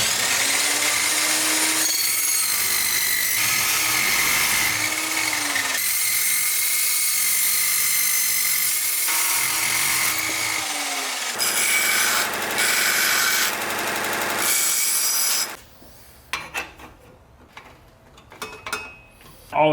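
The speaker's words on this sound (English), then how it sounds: "So I'm gonna cut some pieces and just kind of get an idea of what this would look like." A power tool cuts exhaust pipe pieces for a turbo K24 Nissan Cefiro exhaust build: loud, high whining cuts in several long bursts with short pauses, fading at the end into quieter clatter and handling noises.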